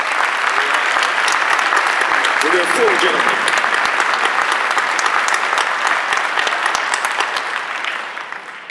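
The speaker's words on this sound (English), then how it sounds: "them a round of applause." Sustained applause from an indoor audience at a commencement ceremony, dense steady clapping lasting throughout and tapering near the end, with a voice speaking briefly over it.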